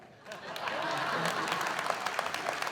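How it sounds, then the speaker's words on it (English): Audience applause at a direct selling association's 45th anniversary convention, a broad steady wash of clapping that swells in after a brief quiet start and continues loud and dense throughout. "This is where you clap."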